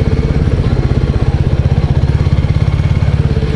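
A 2024 Royal Enfield 350 Bullet motorcycle thumps out a loud, close, rapid single-cylinder beat at a steady riding pace with an even rhythm throughout.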